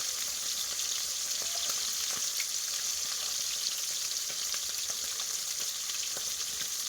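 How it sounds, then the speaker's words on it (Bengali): Fish frying in oil in a home kitchen, a steady close sizzle with bubbling crackle and occasional sharp pops, continuous throughout with no talking. "তো ওদিকে মাছ ভাজা হচ্ছে"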